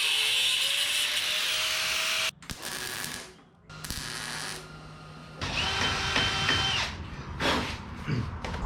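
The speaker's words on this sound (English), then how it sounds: "New hole for a cotter pin." A power drill bores a new cotter-pin hole during a 1961 Chevrolet Parkwood wagon build, whirring in loud bursts that are broken by short pauses and clicks.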